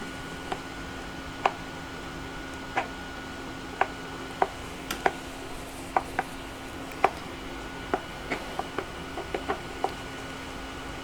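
Boiled potatoes being stirred into masala in a pan, the spoon clinking against the pan in scattered sharp taps over a steady low hum, no voice present.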